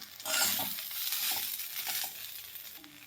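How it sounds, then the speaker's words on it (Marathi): Caraway seeds and coriander dry-roasting in a pan for a Maharashtrian katvada breakfast, with a steady close scratchy stir and light rustle running throughout, no voices. "यानंतर आपल्याला कोथिंबीर टाकायची याच्यातच आणि हे सगळं भाजून घ्यायचं आहे बघा."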